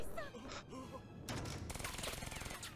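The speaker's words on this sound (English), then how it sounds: "No, they're shooting kids!" Gunfire from the Code Geass anime's first episode in the Shinjuku Ghetto, a rapid fusillade of shots under dramatic soundtrack and voices, dense and loud through the second half.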